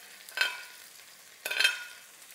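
Onions and green pepper strips sautéing in a pot for South African chakalaka, with two brief scraping stirs over a faint, low sizzle.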